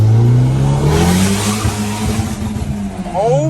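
A 1997 Honda Accord with a small turbo and stock block accelerating hard from inside the cabin, its loud droning engine note holding steady, with a voice speaking briefly near the end.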